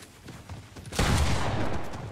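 Gunfire in the video game Fortnite erupts as a loud, dense burst of shots about halfway through, following quieter scattered shooting, and keeps up heavily to the end.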